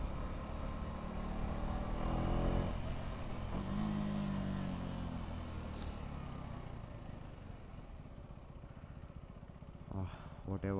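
A motorcycle rides through city traffic and its engine drops power, a continuous close engine drone and road roar that swells, then settles lower and flatter, with occasional clicks and wind noise near the end.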